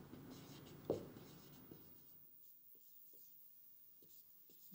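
A pen writes on paper during a bookkeeping lesson, with close, faint scratching strokes and a few soft taps, heard alone without talk.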